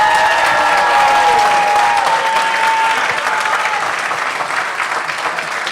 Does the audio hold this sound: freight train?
no